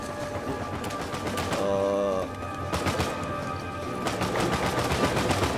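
Dense, rapid automatic gunfire in Uncharted 4 multiplayer, loud and continuous, with overlapping bursts and shots layered throughout the short stretch.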